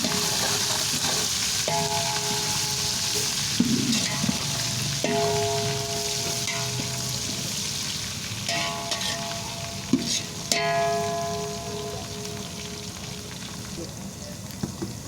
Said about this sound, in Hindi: इसे साथ में हिला देना ताकि ये जले ना